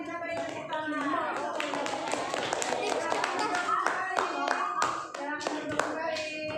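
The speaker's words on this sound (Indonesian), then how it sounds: "Silakan duduk dan kita beri tepuk tangan." Children applauding in a classroom, a lively patter of many small hands clapping at close range with uneven rhythm, while children's voices chatter underneath.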